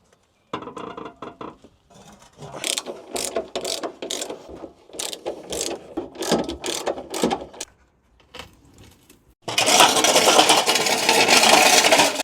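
A ratchet wrench removes a bolt from the suspension of a BMW drift car, giving bursts of quick pawl clicks with short pauses. A loud continuous mechanical rush follows at the end.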